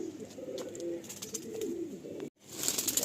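Andhra pigeons, a male and female pair in a newly set-up loft cage, coo in low, repeated throaty rolls, close by, with a brief silent gap before the cooing resumes.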